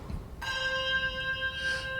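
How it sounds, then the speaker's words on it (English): A church handbell played with a tower-swing motion at a home concert: a sudden bright strike rings on, and its tone swells in a wah-like wave near the end. "Do the wah-wah sound of a tower bell."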